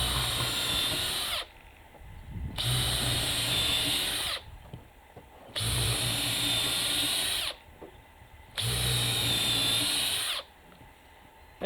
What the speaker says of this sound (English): here's the Makita top of the line 18 volt